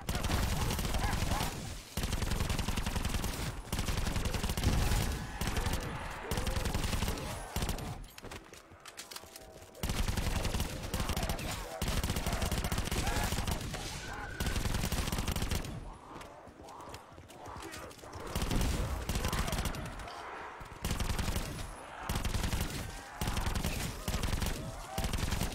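Rapid bursts of gunfire from a gun in Call of Duty Black Ops 4 Zombies on the Blood of the Dead map, loud sustained volleys with brief pauses, mixed with other game effects.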